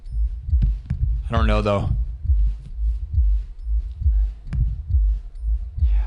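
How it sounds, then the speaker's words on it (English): Steady rhythmic heartbeat thumps, loud and close, run through the whole stretch at a regular pace, with a brief burst of voice partway through and quiet talk around it. "The heartbeat sound is coming from you."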